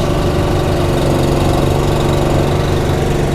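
A gas-powered 18-24HD log splitter engine runs loud and close, a steady rough chugging drone with even vibration throughout and no voices.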